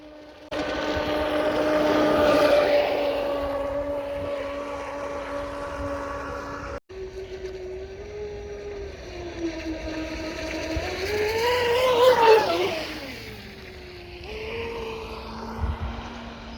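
A Traxxas M41 RC speedboat makes a high-pitched motor whine over water that rises and falls as it speeds past, with one pass early and a louder, closer sweep later.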